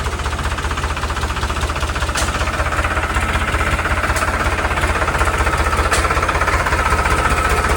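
A tractor engine on a riverbank thuds along in a steady, loud mechanical rhythm while loading, continuous and close with no voices.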